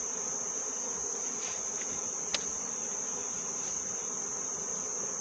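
Honey bees at a beehive make a steady, continuous high-pitched buzz and whine that fills the whole stretch at moderate level, with no talking.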